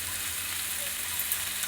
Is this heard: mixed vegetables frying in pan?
yes